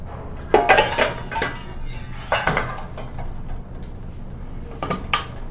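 Donut dough with yeast given a quick mix in a bowl, with clinks and knocks of utensil against the bowl in uneven bursts, close by and without talk.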